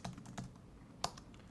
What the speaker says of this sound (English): And I'm going to type in Apple.